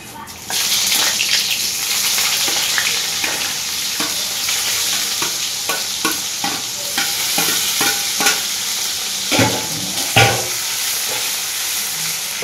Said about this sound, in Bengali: জিরেগুলো কালো হয়ে এসছে, এখন দিয়ে দেবো পেঁয়াজ কুচিটা